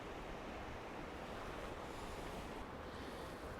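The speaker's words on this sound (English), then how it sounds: "It's a little blustery" Steady blustery wind buffets the microphone beside the River Dee, a continuous broadband rush with no talk, loud and unbroken throughout.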